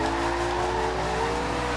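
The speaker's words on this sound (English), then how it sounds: "V8 sound, exhaust sound to it" Bumblebee Camaro Z/28 drifting in Forza Horizon 2, its V8 exhaust droning loudly and steadily while the tires squeal in a sustained slide, close and without pause.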